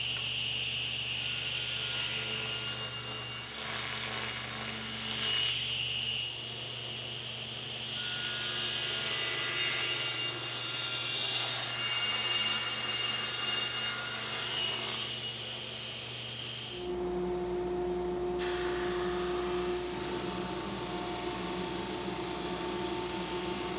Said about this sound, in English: So now I'm going to rip the sides of the frame to width, and then I'll resaw the material at 5/8.